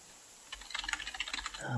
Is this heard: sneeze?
no